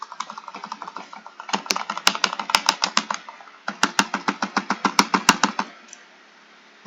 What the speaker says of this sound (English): I can't even see because I'm clicking so fast